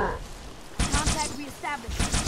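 Gunfire in Halo 3 battle, rapid clattering bursts of shots in two stretches with a pause between, fairly loud, mixed with voices and game sounds.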